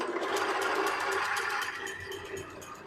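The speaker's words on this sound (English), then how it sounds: "All right, let's turn it on. I've also sped the lathe down a little bit." Metal lathe geared down one belt step spinning a rusty camshaft, a steady close mechanical whir with a faint rhythmic ticking, with no talk.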